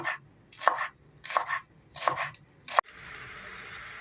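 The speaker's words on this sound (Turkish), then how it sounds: "En son bir tutam maydanozum vardı. Bunu da doğruyorum." A knife chops a handful of parsley on a board, four distinct crisp chopping strokes with short pauses between them, close and clear, followed by a soft steady background hiss.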